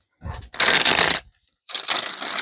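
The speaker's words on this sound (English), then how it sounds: "Try one more decent shuffle." Two bursts of dense, crisp riffling of a tarot deck being shuffled close by, separated by a short pause with no talking.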